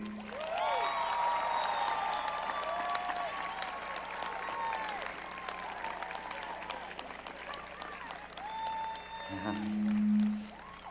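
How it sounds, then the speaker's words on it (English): Broad applause and cheering rise from a large outdoor crowd at a university commencement ceremony as graduates turn to honor their families, steady and distant, with a loud hum swelling near the end. "with a warm round of applause"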